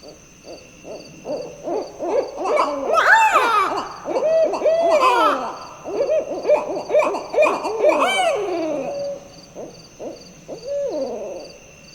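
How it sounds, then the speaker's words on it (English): Owl hooting in a tree outside at night, a run of clear, close, rising-and-falling hoots and trills repeated in bursts, loud and alone with no talking. "It's just an owl."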